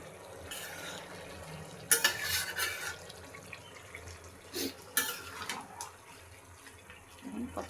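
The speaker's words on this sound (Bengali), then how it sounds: "করলা আলু দিয়ে চচ্চড়ি রান্না করতেছি চিংড়ি মাছ দিয়ে" Bitter gourd, potato and shrimp curry is stirred in a pot with a spoon, giving intermittent scraping bursts against the metal. There are a few sharper clatters and a faint background hiss, with no talking.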